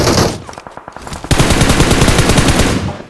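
Automatic gunfire in a mobile shooter game rattles in rapid, evenly spaced bursts, first a short volley, then a longer sustained stream, loud and close.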